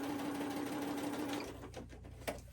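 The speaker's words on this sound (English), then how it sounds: "I keep my sewing machine right next to me on my desk because I use it every time I make something." A desktop sewing machine stitches down a paper booklet, its motor humming steadily for over a second before slowing into a few softer mechanical clicks and thumps, heard alone and close.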